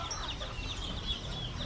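Chickens cluck at a Bali animal market, a faint busy stream of short calls over low background noise.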